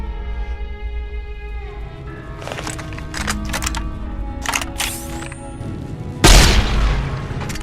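The Big Boomer, a double-barreled shotgun in Fallout: New Vegas, fires several heavy booming blasts. The last shot is the loudest and lands over a tonal game background with scattered sharp clicks.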